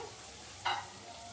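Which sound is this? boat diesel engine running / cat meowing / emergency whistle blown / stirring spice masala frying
stirring spice masala frying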